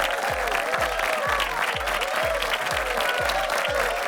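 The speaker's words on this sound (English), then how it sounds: "All right, now you can applaud." Audience applause during a trucking news program: continuous crowd clapping with a steady, evenly spaced low thumping beat running beneath it throughout.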